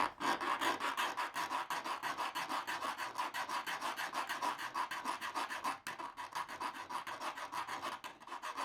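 A hand file rasps against small wooden model ship parts in quick, continuous back-and-forth strokes. The scraping is close and steady throughout, with no talking.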